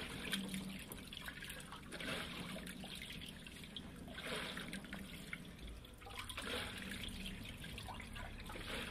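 Water rushing and trickling inside a Speed Queen TR7003WN top-load washer during a rinse, a steady moderate splashing flow with gentle surges, no talk.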